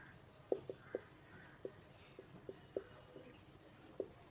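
Chalk or marker writing on a board during a civil engineering lecture on concrete cover for pile caps: a quiet, irregular series of sharp taps and short scratches, about ten strokes over four seconds, faint with room hiss behind.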